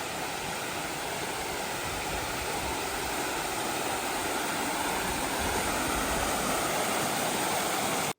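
A waterfall on a hiking trail rushes in a steady, dense, unbroken roar, constant in level throughout with no other sounds.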